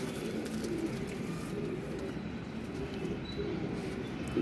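Pigeons cooing steadily in a loft with two paired birds, a low continuous murmur of soft coos layered over dense background noise.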